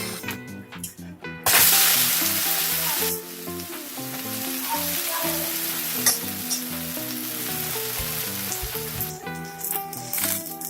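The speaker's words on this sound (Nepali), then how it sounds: "र फेरि 5 मिनेटसम्म मधुरो आँचमा पकाउनु पर्छ।" A Newari pizza fries in a covered pan over a low flame in Nepal, with a steady sizzle that swells loud after a brief lull and then settles into a constant crackle over a low background hum.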